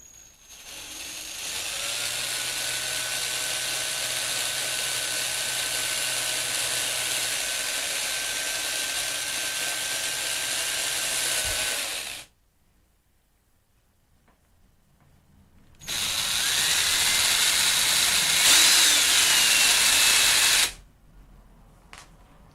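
A power drill bores through a small handmade plastic part for a Bionicle-style toy, with no wood backing underneath. Two steady, whining bursts run close and loud, one long and one shorter, separated by a few seconds of quiet.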